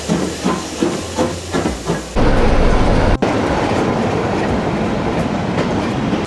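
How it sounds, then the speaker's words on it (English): A long heritage train on the Great Central Railway in Britain, rhythmic wheel clatter at first, then a sudden loud burst of hissing steam that holds steady and close to the end. "this train is really, really long"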